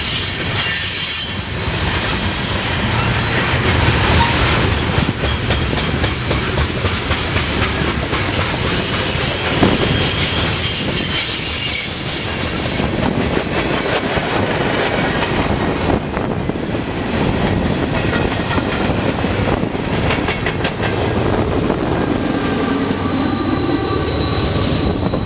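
A Norfolk Southern freight train with Tropicana juice cars rolls past, loud and close, with a constant roar of wheels on rail, rhythmic clickety-clack and a thin metallic squeal running over it throughout.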